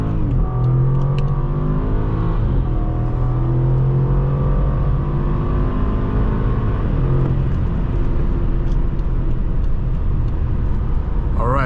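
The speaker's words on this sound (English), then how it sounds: "let's do a 0 to 60 test and see how quick it is from idle" A 2013 BMW 750Li xDrive accelerates hard from idle, its engine note loud and continuous, rising in pitch through gear changes with steady road and wind roar throughout.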